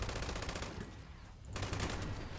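A light machine gun fires in Fallout 76 with rapid, continuous automatic bursts, broken by a brief lull before the firing resumes, with no talk.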